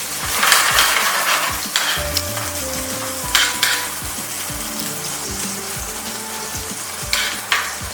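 Butter sizzles and fries loudly in a pan alongside sous vide beef tenderloin, with steady crackling, a few stirring scrapes and clinks of a utensil throughout.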